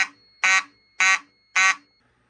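DC fire alarm horns coded by a Collectors Controls CB-636AD NAC coder sound three loud, harsh buzzing blasts in an even rhythm, each about a quarter second long with short gaps between.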